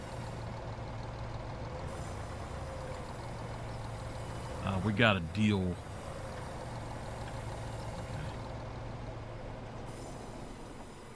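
A low engine drone from a truck in Farming Simulator 25 runs throughout, interrupted midway by a short burst of clanking, squealing mechanical noise, while a person speaks briefly.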